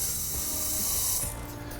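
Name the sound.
spraying penetrating spray on exhaust downpipe nuts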